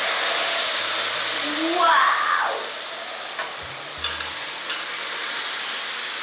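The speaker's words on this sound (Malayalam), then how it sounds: "ബീഫ് ഉണ്ടല്ലോ അതിലേക്ക് ഇട്ട് കൊടുത്തു." Cooked beef tossed into a hot pan with spices, giving a steady close frying hiss with stirring scrapes and a few clinks of a utensil against the pan, no talking.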